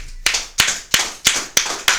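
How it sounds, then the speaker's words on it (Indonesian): Six sharp, evenly spaced claps ring out close and crisp, like a few people clapping in unison rather than a large audience. "Mantap sekali, tepuk tangan lagi."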